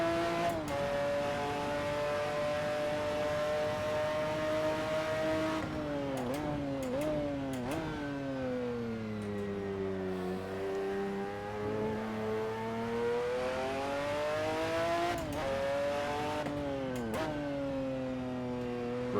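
A McLaren F1 GTR race car laps the Nurburgring on cold tires in Assetto Corsa. Its steady, loud engine drone rises and falls through gear shifts and revs, alone without talk.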